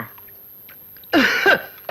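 A single short cough, close by, after near silence, followed by a faint throaty catch.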